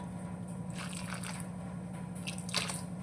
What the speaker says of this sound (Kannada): ಸ್ವಲ್ಪ ಸ್ವಲ್ಪನೇ ತಣ್ಣೀರನ್ನ ಹಾಕ್ಕೊಂಡು ಕಲಿಸ್ಕೊಳ್ಳೋಣ